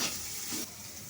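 A spice paste sizzles and hisses as it fries with salt toward a browned colour, a steady close frying sound that drops slightly in level partway through, with no voices.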